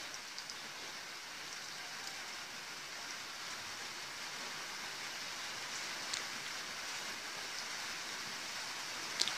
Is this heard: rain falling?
yes